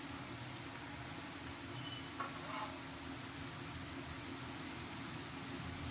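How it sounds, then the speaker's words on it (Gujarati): Steady sizzling of a homemade sweet frying in a pan, a continuous soft hiss with a brief stir or clink partway through, no voices. "એક મિનિટ માટે તેને આપણે આ રીતે તળાવા દઈશું"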